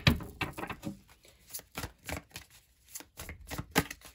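A deck of tarot cards is shuffled by hand, producing a faint, irregular series of soft riffling taps and flicks heard close by with no talking.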